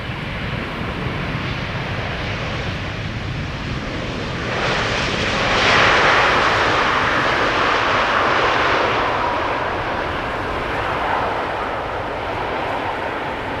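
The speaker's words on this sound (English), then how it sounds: "And indeed, Bold Rage, the bigger the plane, the smoother is the landing" Airliner landing at Amsterdam Schiphol Airport on a sunny day, a steady broad jet roar that swells to a peak midway as the plane passes close, then eases off, with no voices.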